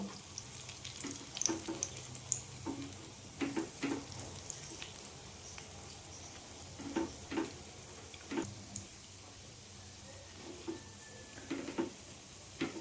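Food frying on a low flame in a home kitchen while cooking a vegetarian thali: soft, close sizzling with scattered pops and stirring scrapes, fairly quiet throughout.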